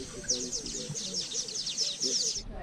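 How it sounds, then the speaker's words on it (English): Birds chirp in quick, high twittering bursts throughout, with low indistinct voices murmuring underneath. "You're not going to see many birds here, but you'll hear the birds."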